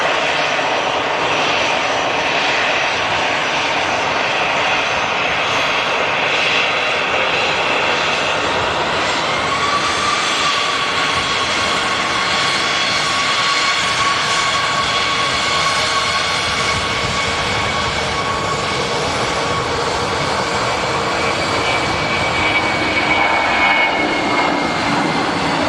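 Lufthansa Airbus A321 jet airliner, a loud continuous engine roar holding steady throughout with a faint rising whine, no voices over it.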